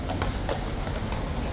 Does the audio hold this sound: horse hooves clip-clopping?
yes